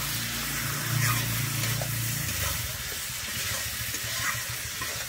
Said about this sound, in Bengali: খাসির চর্বি দিয়ে কিন্তু আমি ভালো করে এখানে কিন্তু কষিয়ে নেব